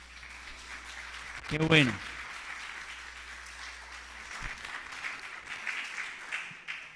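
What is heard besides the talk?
applause from congregation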